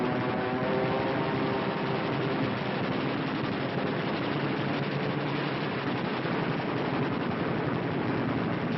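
Aircraft strafing with machine-gun fire in a 1943 wartime film about the Eastern Front, heard as dense, continuous rattling bursts mixed with a droning engine roar, loud and unbroken throughout.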